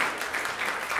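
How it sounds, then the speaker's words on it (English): Brief burst of audience applause at an academic symposium session, a short, even wash of many hands clapping with no voices over it. "of course, an applause"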